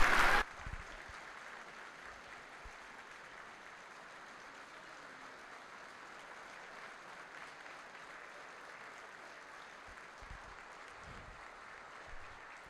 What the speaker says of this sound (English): Another round of applause for Leticia Alvarado Franco